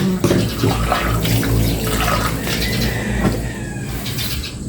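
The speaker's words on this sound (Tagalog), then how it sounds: "Ayan, magdidilig po kami ni Aya." Steady rushing water runs continuously as plants are watered, like a hose or tap flowing, with a low rumble underneath and no voices.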